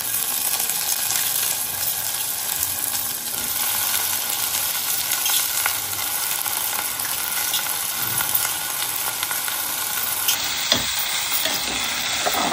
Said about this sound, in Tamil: இப்போ பூசணிக்காய் போட்டுடலாம்.